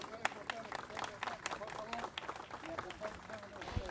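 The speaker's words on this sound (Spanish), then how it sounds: "Fuerte el aplauso." Applause from an audience at a monument inauguration for the Arab community in Comodoro Rivadavia, a steady stretch of clapping mixed with crowd murmur and voices throughout.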